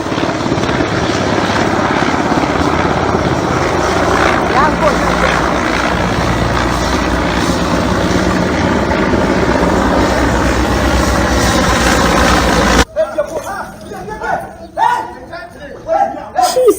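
Low-flying military helicopters over a town in Ashaiman, Greater Accra, make a loud, continuous rotor roar that fills most of the stretch before cutting off into quieter, patchy street noise.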